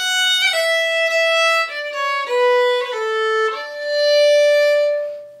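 A solo fiddle plays a short, lilting phrase of the traditional Irish march Return from Fingal with quick ornamented notes, clear and close, ending on a sustained tone.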